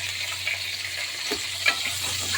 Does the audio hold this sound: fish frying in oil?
yes